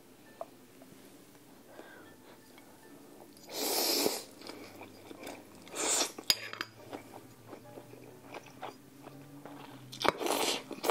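Loud, close crunches from biting into a fried spring roll, in two or three distinct bursts spread across the clip, with quieter chewing and light utensil clinks in between.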